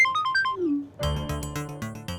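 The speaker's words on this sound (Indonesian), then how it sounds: "gue ada telepon" A mobile phone ringtone in an Indonesian drama scene, a short melodic chime followed by a louder repeating bright electronic tune, playing alone.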